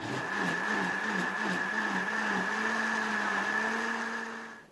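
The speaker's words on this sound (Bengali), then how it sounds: "আমের টুকরোগুলো একটা ব্লেন্ডার জারে নিয়ে নিচ্ছি" An electric blender grinds raw mango pieces with water into a paste, giving a loud continuous motor whine up close. The pitch wavers slightly as the load shifts, then the motor winds down at the end.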